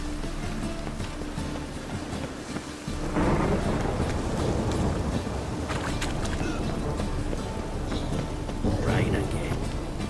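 Steady rain pours in The Witcher 3, joined partway through by a deep, loud rumble of thunder that swells and rolls on beneath the downpour.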